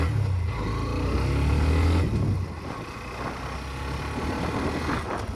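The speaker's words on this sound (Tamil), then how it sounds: "இப்போ வந்து நான் 4th கியர் 5th கியர் இந்த மாதிரி போயிட்டுருக்கேன்." A Hero Xtreme 125R 125cc motorcycle cruises in fourth and fifth gear, its engine a steady, close drone with wind rush, the low rumble easing partway through as it settles.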